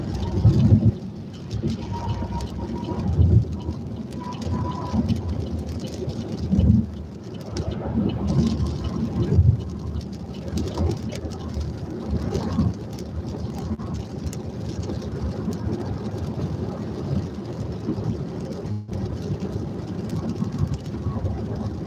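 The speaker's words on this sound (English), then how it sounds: "It's raining," Steady rain falls at night, a continuous broadband wash with soft low rumbles, heard close and fairly loud throughout with faint voice-like murmurs beneath.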